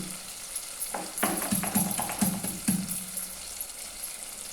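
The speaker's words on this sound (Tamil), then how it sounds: "இடிச்ச பூண்டு போட்டு ஒரு ரெண்டு நிமிஷம் வச்சுக்கிட்டு" Crushed garlic frying in oil for a fish curry, with soft sizzling and several light clinks and stirring scrapes from a utensil in the pan, fairly quiet and close.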